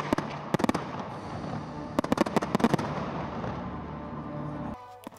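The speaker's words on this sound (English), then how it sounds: "Our big firework finale rounded it all off in style." A fireworks display finale bursts in rapid clusters of sharp cracks and bangs over a continuous crackling rumble, dying away near the end.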